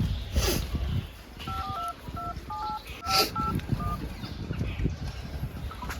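Phone keypad being dialed, a quick run of about ten electronic beeps in an uneven rhythm, heard over rustling background noise and faint poultry sounds, with no speech.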